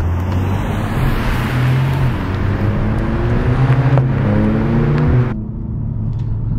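A 2022 Mercedes CLA 45 AMG coupe drives in Sport Plus mode, heard from inside the cabin as a steady engine drone with a few sharp exhaust pops and crackles near the end.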